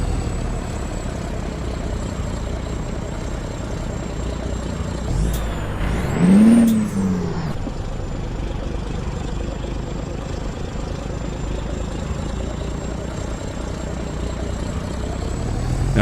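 Low, steady rumble of a truck engine idling and cruising slowly up a hill on a special transport haul, a constant drone with a brief hiss and whine midway through.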